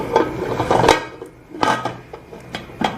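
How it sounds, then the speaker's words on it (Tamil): A lid goes onto a pot holding sponge cake batter on the stove, with a few metallic clatters and knocks spaced out, fairly close and moderately loud. "இப்போ இதை நம்ம மூடி வச்சிடலாம்."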